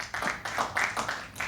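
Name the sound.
audience applause at poetry open mic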